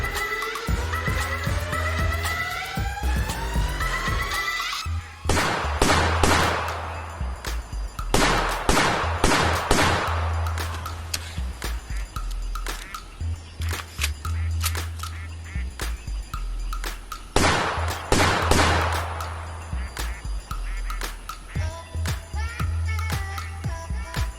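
Rapid gunfire in the VR hunting game Legendary Hunter on a Pico 4 headset comes as repeated loud bursts of sharp shots over an outdoor game ambience, with duck-like calls in between.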